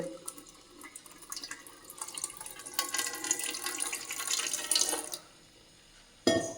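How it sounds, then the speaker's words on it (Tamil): Water poured at a medium, steady rate into flour for chapati dough, a continuous splashing trickle that swells and then stops abruptly, followed by a brief clatter. "அப்புறம் தண்ணி இப்படி மீடியமாக ஊற்றுங்க."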